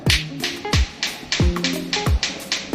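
Repeated knocks on a hollow floor tile, about seven in quick irregular succession, each with a slightly resonant, papery ring, heard close and fairly loud.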